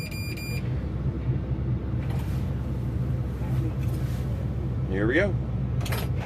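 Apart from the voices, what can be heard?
Volvo EC160 diesel excavator cold start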